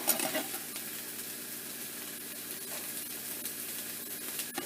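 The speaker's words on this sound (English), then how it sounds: "I'm going to add the garlic now" Three cloves of minced garlic hit a hot pan for pulled jackfruit, giving a steady, soft, broadband sizzle that holds evenly throughout, with a couple of faint clicks.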